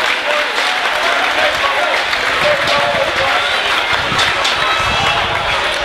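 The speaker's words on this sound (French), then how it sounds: "je crois qu'on peut applaudir une nouvelle fois très Allez. fort" Loud, sustained applause from a large crowd at a women's final in a sporting event, dense clapping and cheering filling the whole stretch with no break.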